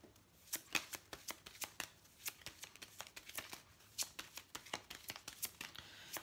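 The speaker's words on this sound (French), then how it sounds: "je vais tirer une petite carte de l'oracle des maîtres ascensionnés" Oracle cards being shuffled by hand, a quiet, close, steady run of soft papery riffles and flicks with a regular rhythm and no talk.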